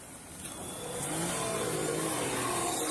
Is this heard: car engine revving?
yes